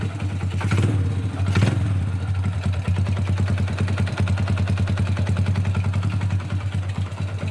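A Honda Wave 100 motorcycle engine idles close up, with a rapid, steady mechanical ticking and clattering running throughout.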